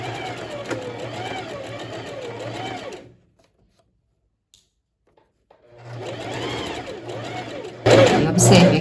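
A sewing machine stitches the lining side seams, front and back, of a lined tailored vest, running in two close, steady bursts separated by a pause of near silence, with a louder clatter at the end.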